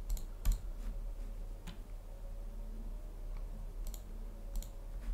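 A few sharp, quiet computer mouse clicks, some in quick pairs, spaced over a low steady room hum with no voice.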